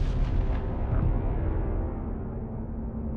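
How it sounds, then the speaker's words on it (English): A Russian anti-satellite missile launches with a deep rumbling roar that opens loud and close with a few sharp bursts, then slowly fades away. "Russia reignites diplomatic tensions by launching an ASAT"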